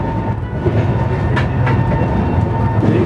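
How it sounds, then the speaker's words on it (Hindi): Tejas Express train running at full speed, a steady loud rumble of wheels and carriage noise with faint rhythmic clatter throughout, heard from on board with no talking. "ट्रेन जो है वो अब अपनी पूरी रफ्तार में चल रही है"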